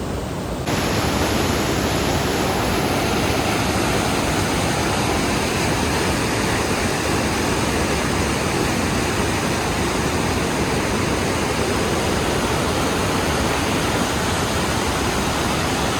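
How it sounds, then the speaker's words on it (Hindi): A swollen monsoon mountain stream on a trekking route in the Astore region rushes steadily nearby, a loud, dense, unbroken roar of water with no voices. "यहाँ पर एक नाला बिखर चुका है और नाले में पानी की मकदार जो है बढ़ती जा रही है"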